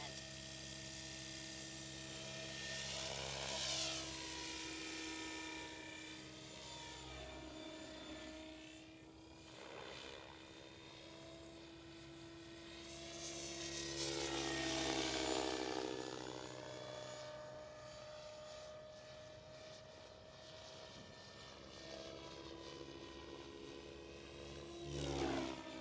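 A SAB Goblin Kraken 700 RC helicopter flies in overcast, windy conditions, its rotor and motor whine rising and falling in pitch as it maneuvers, heard at moderate distance with gusting wind in the background.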